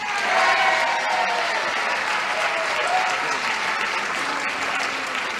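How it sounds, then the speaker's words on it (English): Steady studio audience applause on a game show, a dense, continuous wash of clapping that holds at an even loudness throughout. "Clapping. Clapping."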